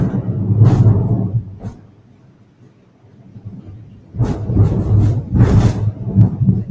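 Thunder from a big storm outside an office rolls in two heavy, deep rumbles, loud and close, separated by a quieter lull.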